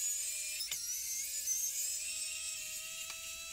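A high-pitched, close whine of a small powered driver removes the silver screws inside a Logitech M720 mouse during a teardown, steady with slight pitch dips and brief clicks.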